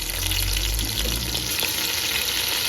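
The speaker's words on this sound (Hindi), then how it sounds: "अब इसमें डालूंगी मैं चिकन।" Chicken fries in a pan with browned onion and garlic, a steady, close, loud sizzle that holds without pause and has no talking over it.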